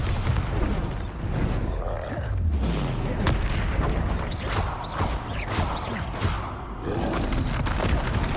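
In Hogwarts Legacy, Bombarda blasting spells burst amid combat, heavy booming impacts and roaring rumble repeating in a dense, loud, continuous barrage over several seconds.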